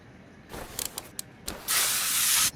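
Aerosol brake cleaner sprayed onto a car's front brake disc in a garage, a few short hissing bursts followed by one long sustained spray of about a second, close and fairly quiet.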